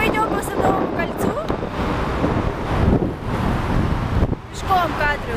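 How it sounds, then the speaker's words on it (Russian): Gusty wind blows along the Garden Ring, a busy Moscow street, rumbling into the microphone with passing traffic beneath it while someone talks throughout. "Сейчас ветер фигачит."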